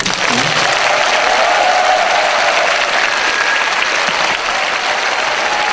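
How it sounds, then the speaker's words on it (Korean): A large audience applauds steadily at a speech concert, dense sustained clapping filling the hall at full volume with no break from start to finish. "큰 박수 부탁드립니다"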